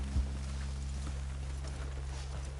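Horses' hooves clip-clop at a walking pace in the video game Red Dead Redemption 2, a steady run of soft, close thuds over a constant low hum.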